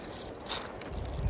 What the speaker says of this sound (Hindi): आवाज़ आ रही है ये महाकाली नदी की आवाज़ है।